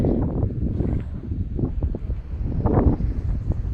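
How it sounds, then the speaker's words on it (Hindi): Strong wind gusts ahead of a storm under dark clouds, heard as low, rumbling buffeting against the microphone that rises and falls in uneven pulses close by. "तेज़ हवा और काले बादल होना"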